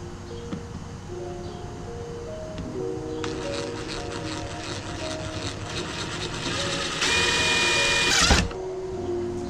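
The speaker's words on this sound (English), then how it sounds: "go ahead and drill it out." A drill bores a hole through the trunk of a Dodge Charger Daytona 392, a steady whirring grind running for several seconds that swells louder near the end before cutting off abruptly.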